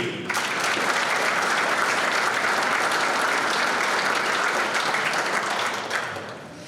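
Sustained audience applause at a UTEP Hall of Fame ceremony, a dense, steady wash of many hands clapping for over six seconds before tapering slightly at the end.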